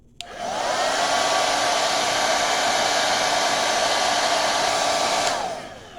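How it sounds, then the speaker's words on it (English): A hair dryer blows continuously at a loud, steady whine for several seconds, then switches off, used to speed curing of a windshield chip repair. "You can speed up the set time by using a hairdryer."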